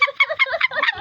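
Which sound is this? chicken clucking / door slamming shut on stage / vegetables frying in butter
chicken clucking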